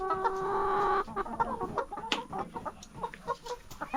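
A small backyard flock of about 23 hens clucks busily at morning feeding, with a loud crowing call at first, then a run of scattered, close clucks and pecking sounds.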